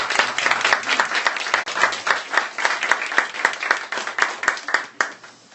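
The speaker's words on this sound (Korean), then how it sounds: "위에 계신 분 정말 감사하다고 우리 박수 한번 하십시오." Church congregation claps in thanks for deaconesses standing in the balcony, a lively, uneven patter of many hands lasting several seconds and fading slightly toward the end.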